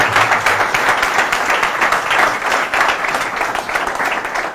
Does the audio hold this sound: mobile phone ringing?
no